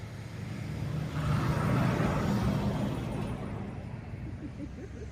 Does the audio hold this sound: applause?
no